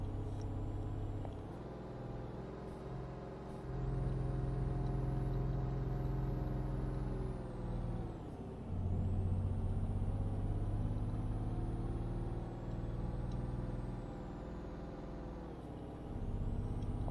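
A truck in a driving video game rumbles steadily with a low engine drone, the pitch rising and dipping as it accelerates and shifts, with a faint high whine on top.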